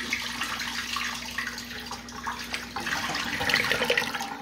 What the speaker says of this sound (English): let's give it a flush anyways